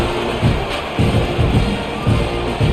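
Stadium crowd in the EA College Football '26 video game, a broad steady roar with gentle rhythmic swells, heard from a distance and without any distinct voices.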